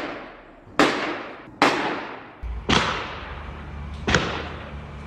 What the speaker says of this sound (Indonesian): An active shooter fires at random.